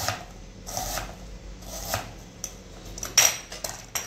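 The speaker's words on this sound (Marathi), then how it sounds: "आता सगळ्यात पहिले आपण कांदा कापून घ्या" A knife slices onion into thin half-moon pieces on a board, a handful of soft irregular cuts and scrapes up close, with one sharper knock near the end and no talking.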